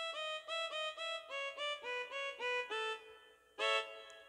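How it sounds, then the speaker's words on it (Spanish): Korg N364 keyboard playing its factory violin patch with no effect: a quiet, bowed-sounding melody of about a dozen short sustained notes climbing upward, ending with one louder note, played alone. "nada más vamos a utilizar el violín"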